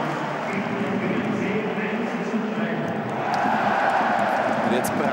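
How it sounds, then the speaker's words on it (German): A football stadium crowd at an Austrian Bundesliga match between Rapid and SCR Altach roars and cheers steadily, a dense wash of voices that swells slightly toward the end, with a commentator speaking over it. "Jetzt brandet hier Jubel auf."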